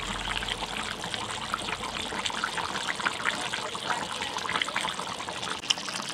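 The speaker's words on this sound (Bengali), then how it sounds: "মাংসটা কষানো হয়ে গেলে আমরা এরপরে এর মধ্যে দিয়ে দেব আগে থেকে গরম করে রাখা জল।" Hot water pours steadily into a pot of browned country chicken curry with potatoes, making a continuous close trickling, splashing flow with no talking.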